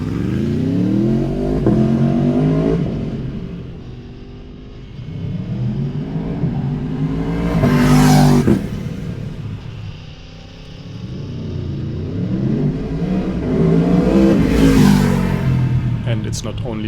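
A motorcycle engine revs hard and loud up close, rising and falling in long surges, with two sharp peaks between lower idling stretches, while someone talks.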